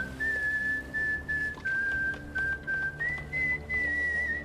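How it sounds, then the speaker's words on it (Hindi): A man in a historical drama blows a special whistle, a loud sustained tone broken into several long blasts with short pauses, rising slightly in pitch near the end, over a low background hum. "वो दोबारा सीटी बजाते हैं"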